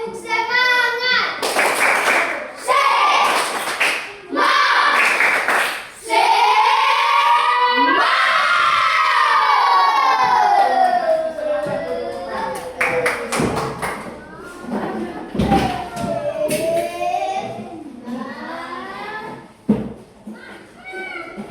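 Children in a primary school maths class perform a rhythmic spirit clap, sharp patterned hand claps and thumps mixed with a teacher's voice and children chanting along.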